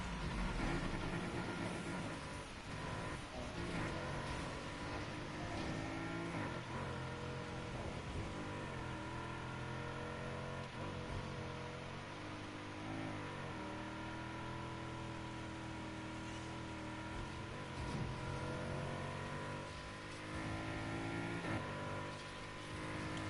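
A car engine in the racing game Need for Speed Heat drones and revs continuously, rising and falling in pitch through gear changes, loud and close with no voices.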